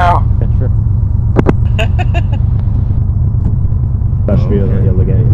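Truck driving in the video game ARMA, a steady low engine rumble running throughout, with brief clicks and voices over the top.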